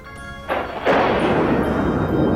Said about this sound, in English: This is the explosion of the volcano.